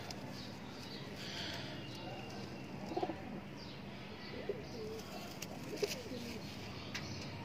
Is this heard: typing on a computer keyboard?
no